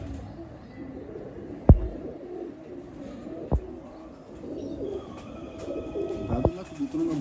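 Pigeons kept by a fancier in Dharampura, Lahore coo softly in low, repeated murmurs over steady outdoor background noise, with a few sharp knocks and taps.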